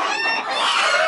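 Hens and a rooster in a farm hen house cluck and squawk in a busy, agitated chorus, loud and close throughout the brief moment.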